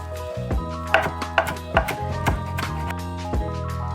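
Fresh cilantro chopped on a cutting board with a knife, a run of distinct close taps at an uneven rhythm, clear and alone without talk.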